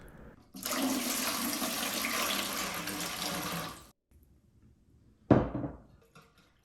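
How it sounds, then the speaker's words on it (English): Water pours steadily into a pot of red chile pork posole base with chili powder, salt and minced garlic, a loud rushing splash lasting about three seconds that stops abruptly, followed by a short clatter. "And we'll go ahead and add our water in."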